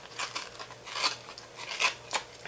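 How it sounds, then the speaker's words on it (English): Scissor blades scraping and roughing up the edges of paper for a handmade sympathy card, several short rasping strokes in an irregular rhythm, close and quiet, with no voices. "let me rough it up a little bit with my scissors"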